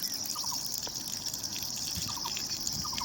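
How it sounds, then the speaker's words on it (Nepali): A village river in Pyuthan flows steadily with a constant rushing, gurgling wash, fairly distant and even throughout, with a few faint chirps over it. "खोला बगिरहेछ, बढिरहेछ।"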